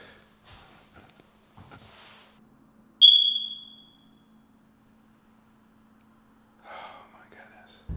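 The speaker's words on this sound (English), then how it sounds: "the infamous fire alarm beep." A single sharp electronic fire alarm beep rings out loud and close, lasting about a second, amid quiet room noise and faint breathy sounds.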